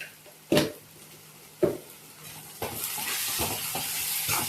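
A spatula stirs turmeric, coriander-cumin powder, red chilli and salt frying in a pan for brinjal bharta. A few distinct scrapes come first, then a steady hiss of sizzling builds and continues.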